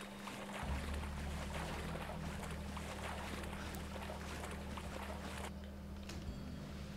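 A boat moves across the water in the video game Sleeping Dogs, giving a steady wash of engine and water noise that drops slightly near the end, with no voices.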